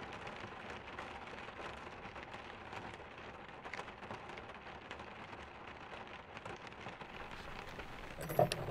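Rain falling on a Toyota Land Cruiser, a faint, steady patter of drops on the vehicle with a slightly louder tap near the end.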